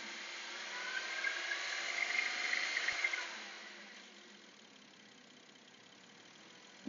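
A 2002 Porsche Boxster S with the 3.2L engine, just repaired for P1128 and P1130 faults, idles steadily. The low, even hum is louder for the first three seconds, then drops to a softer drone, with a sharp click at the very end.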